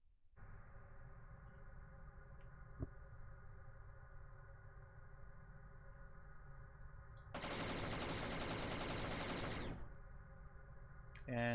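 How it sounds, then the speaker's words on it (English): Turrets firing in a Godot space game, a sustained rapid stream of shots under a steady humming drone, joined midway by a loud dense burst of noise for a few seconds. "And yes, we can shoot"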